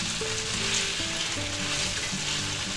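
Spicy beef, broccoli and mushroom stir fry sizzling steadily in a hot pan, a dense continuous crackle and hiss with light stirring clatter, no voices.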